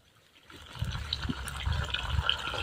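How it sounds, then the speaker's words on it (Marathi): Salted water is poured steadily into a pan of frying banana chips on a wood-fired stove, a close gushing and splashing that begins after a quiet start and keeps going. "आता मी अजून परत एक खारट पाणी टाकते"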